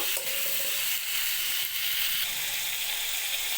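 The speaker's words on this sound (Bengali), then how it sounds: "আবারও এগুলো মিলিয়ে এক দু মিনিটের মতো ভেজে নেবো" Chopped beans, gourd stems and winter vegetables frying in a pan, a continuous bright sizzle that stays loud and close, with a few faint stirring knocks and no voices.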